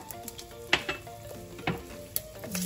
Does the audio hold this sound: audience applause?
no